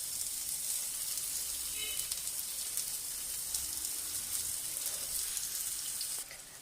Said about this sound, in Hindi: पैन में हमारा ऑयल गर्म हो चुका है। अब हम एक के बाद एक कबाब फ्राई करने लगे हैं।